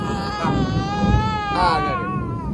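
A baby cries nearby in drawn-out, wavering wails, rising into a second louder burst, with faint talking around it.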